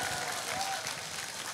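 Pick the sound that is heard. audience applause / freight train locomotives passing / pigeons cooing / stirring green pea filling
audience applause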